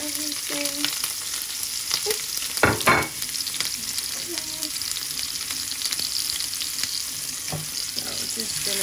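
Oil sizzles steadily in a pot while ingredients for Nigerian jollof rice fry and get stirred, with a few louder scraping clacks of the spoon against the pot around the middle.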